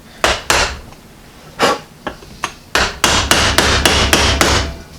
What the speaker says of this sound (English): I want to take this chisel and just start a little hole.